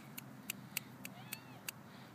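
A stray cat gives a series of short, high meows in a steady rhythm, about six calls fairly close by, over a low background rumble.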